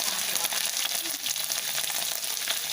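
Sun-dried pork slices frying in hot oil, a dense continuous crackling sizzle with fine popping, close and steady throughout.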